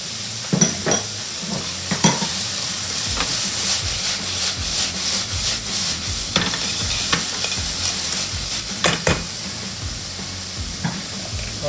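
Garlic shoots sizzling in hot oil with bacon in a pan while being stirred, a steady frying hiss broken by repeated scraping clicks of the utensil, close and alone.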